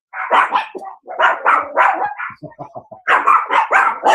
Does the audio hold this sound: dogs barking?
yes